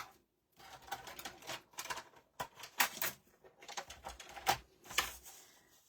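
Paper for a 6x6 inch handmade book is scored with a tool, making a series of quiet, irregular scraping taps and clicks close by, with short gaps between strokes.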